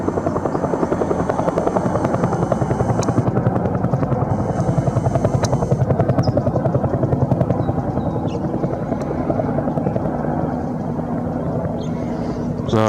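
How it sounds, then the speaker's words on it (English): Helicopters taking off and landing at Fallbrook Airport to refuel, a steady loud rotor thrum and buzz continuing without pause throughout, with faint talk underneath. "All day long it's just been helicopters taking off and landing at Fallbrook Airport, refueling."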